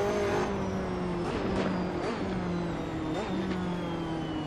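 A Ferrari 458 GT2 race car engine in the video game Assetto Corsa drones at high revs around Monza, steady and close, with a few quick gear-shift dips in pitch and faint whooshing bursts.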